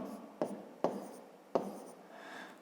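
Pen or chalk strokes writing numbers during a fifth-grade maths lesson on multiplication, with three sharp taps among softer scratching over a steady low room hum, close and moderately quiet.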